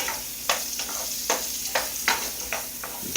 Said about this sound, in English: Give the home fries an extra little stir.